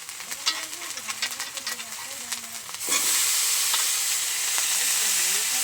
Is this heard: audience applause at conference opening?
no